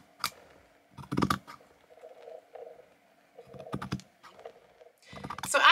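Fabric scissors cutting a sequin piece for a skirt, a few short crisp snipping bursts separated by pauses, close and moderately loud with no talking.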